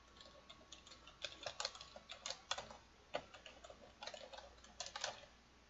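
Keys tapped on a computer keyboard while an email address is entered into an online giving profile form, with quick irregular clicks in bursts and brief pauses, fairly close and alone.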